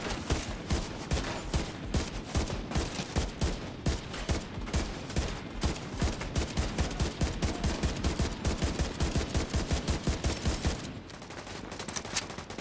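Sustained bursts of light machine gun fire in a video game, a dense rapid rattle of shots running nearly the whole stretch before easing slightly near the end.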